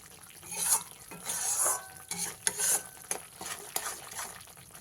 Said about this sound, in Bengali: পেস্টটা খুব ভালো করে মিশিয়ে নিয়ে মশলাটাকে কষিয়ে নিতে হবে